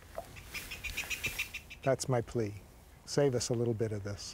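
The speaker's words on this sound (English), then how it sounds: "I just love to listen to the birds sing." Birds chirp faintly in the background in Arizona while a person speaks in the foreground, the bird calls mostly heard in the quieter opening.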